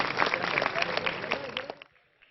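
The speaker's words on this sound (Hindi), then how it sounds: "जोर से तालियां, जोर से।" Applause at a school Sindhi dance performance, a burst of many hands clapping with sharp individual claps standing out, then fading quickly into near silence.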